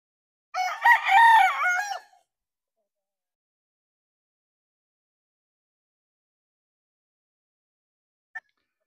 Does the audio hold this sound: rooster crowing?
yes